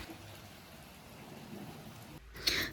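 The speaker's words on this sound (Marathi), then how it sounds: "रात्रभर हा असाच पाऊस सुरू आहे, झिमझिम झिमझिम" Steady overnight drizzle, a soft continuous patter of light rain falling on surfaces, faint and even, ending in a brief louder rustle.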